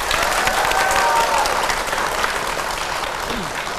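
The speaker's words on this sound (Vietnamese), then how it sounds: "Vỗ tay đi quý vị." Applause from a live audience at an informal Vietnamese singing show, steady dense clapping throughout with faint crowd murmur and a brief voice in the background.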